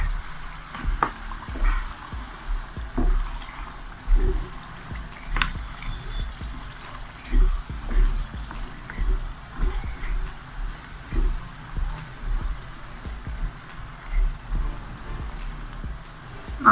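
Boiled black chickpeas stirred into fried masala in a pan, a soft steady sizzle with repeated scraping stirs of a spoon every second or so, close and quiet, with no talking.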